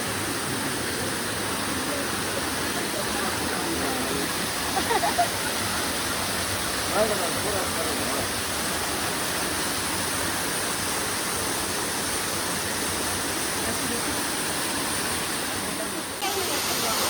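Elneer Falls on the Netravati Peak trek roars in a constant, dense hiss of falling water that goes on without pause; faint voices come and go beneath it.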